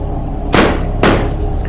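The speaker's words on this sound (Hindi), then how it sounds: "उस शैतान ने दरवाज़ा ही तोड़ दिया है" A door is battered down with two heavy, sharp slamming impacts about half a second apart, loud and close, with a faint knock trailing after.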